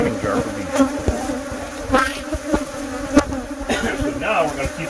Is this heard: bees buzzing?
yes